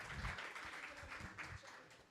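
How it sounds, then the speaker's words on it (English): Audience applause at a women's health symposium, a steady wash of hand claps from a room full of people, moderately distant and even, with no voices over it. "A round of applause for our first"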